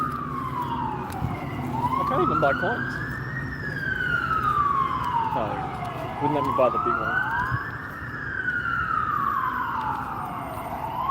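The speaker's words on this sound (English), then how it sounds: "Sorry about the sirens, guys." Emergency vehicle sirens pass outside on a city street, wailing in slow rising and falling sweeps that repeat several times at moderate distance while someone talks over them.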